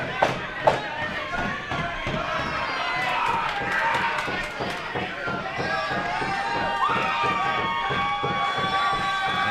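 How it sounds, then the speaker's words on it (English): A crowd at a women's wrestling match cheering and roaring, with rhythmic pounding from the ring and a commentator talking over the noise throughout. "listen to this crowd"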